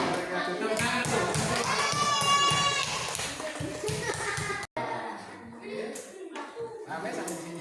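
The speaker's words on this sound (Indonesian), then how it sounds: "Tepuk tangan tuh" Sixth-grade children in a madrasah classroom clap together in a quick rhythm, their voices chanting loudly over the claps. After a brief break, a looser patter of clapping and chatter follows.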